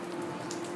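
Rain falling outside, a steady soft patter of drops on surfaces with a low hum beneath, faint and continuous, no voices.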